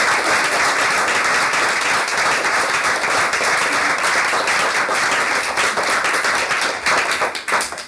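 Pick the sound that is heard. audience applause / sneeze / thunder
audience applause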